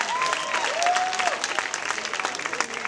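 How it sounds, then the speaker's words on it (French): Audience applause fills the hall at the Miss Burundi 2017 final, a dense, steady wash of clapping from a large crowd, with a faint tonal voice or music line drifting underneath. "Applaudissez encore une fois."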